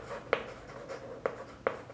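Pen writing on paper, soft scratchy strokes with a few sharper taps, close and quiet, with no talking over it.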